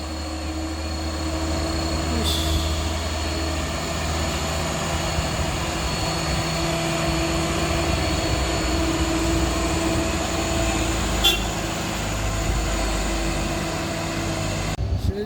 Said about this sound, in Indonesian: Apakah mampu melewati tanjakan kedabuhan ini bosku? Nampak muatannya overload.